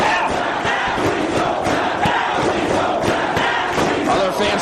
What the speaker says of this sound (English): Crowd chanting, please don't tap.